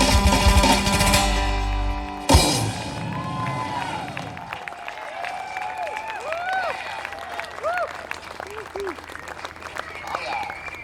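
Audience at a live bluegrass-style band concert at a campground festival claps and cheers loudly, the burst fading into scattered whoops and murmuring crowd noise as applause tapers off.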